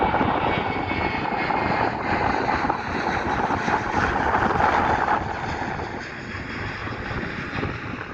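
Steady engine drone of an airplane passing over the Castle Donington race track during a vintage car race, loud and continuous, easing slightly toward the end, with no voices.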